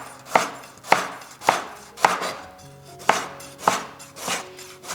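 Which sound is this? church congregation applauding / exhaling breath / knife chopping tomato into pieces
knife chopping tomato into pieces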